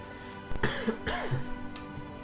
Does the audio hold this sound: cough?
yes